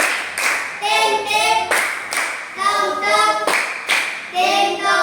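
Classroom students clapping for a group who just presented their work, several short bursts of rhythmic group clapping separated by brief pauses, with a teacher's voice speaking between and over the claps.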